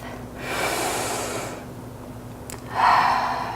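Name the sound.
deep breath during yoga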